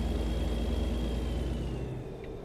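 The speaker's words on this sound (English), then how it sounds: "That is the Jake brake." Truck Jake brake in American Truck Simulator, a low, steady engine drone that rumbles loudly for about two seconds, then drops off and fades as it ends.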